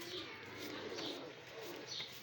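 Pigeons cooing quietly in soft repeated rolling coos, roughly one every second, faint and close against light background noise.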